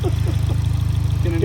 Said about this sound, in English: I'm glad that the engine sounds nice.